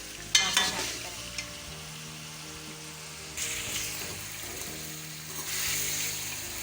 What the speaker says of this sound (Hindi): 4 से 5 मिनट तक हम इसे फ्राई करेंगे अदरक लहसुन के साथ